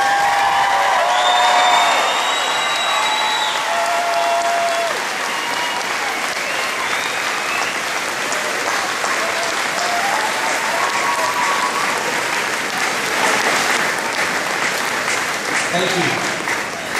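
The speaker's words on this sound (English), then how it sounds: "One more round of applause, please." Loud sustained applause from a large crowd for the Lackawanna Trail High School class of 2014 at commencement, dense clapping with scattered cheers and whistles, continuing steadily for many seconds with voices murmuring beneath.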